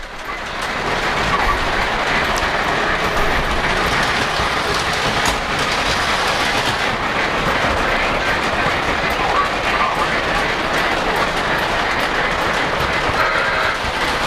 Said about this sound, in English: I'm going to try and see if I can get the Polar Express passenger train running as well